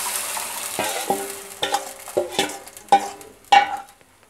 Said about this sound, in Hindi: तो देखिए ये हमारा प्याज ब्राउन हो चुका है, अब इसमें मैं ये बैटर डाल दूंगी